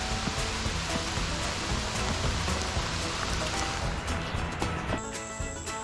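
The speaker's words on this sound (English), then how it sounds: "Well, that is a lot of rain." Heavy rain pours down in a dense, continuous hiss, pattering on surfaces nearby on Fowl River, steady and loud with no talking.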